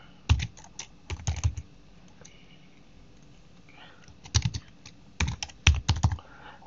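Fingers tap on a computer keyboard, typing commands into a terminal while installing Nginx, in several short bursts of quick, close clicks separated by pauses with faint background noise.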